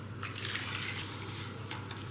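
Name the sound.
hot boiled water being poured into mango mixture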